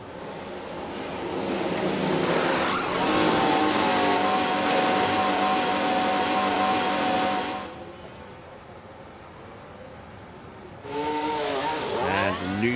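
F1 racing cars from a racing video game pulling through the pits, loud engine roar and revving that drops away, then another car surges past near the end, no talking.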